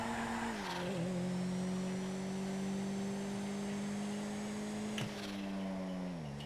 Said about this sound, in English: Nice little turbo blow off sound as well.